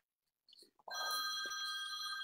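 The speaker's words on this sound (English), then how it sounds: "and then the phone rings." Phone ringing during a live podcast: after a few faint bumps, a steady electronic ring starts and sounds continuously, fairly quiet and close.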